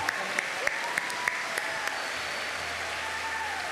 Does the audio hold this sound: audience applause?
yes